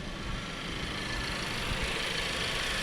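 Steady, even idle of a Volkswagen car engine with the air conditioning switched on, a close low hum that holds level throughout.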